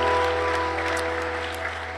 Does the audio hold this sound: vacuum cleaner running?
no